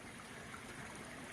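A mountain stream flowing in the provincial countryside, a steady broadband rush and trickle of water heard up close and unbroken, with no voices.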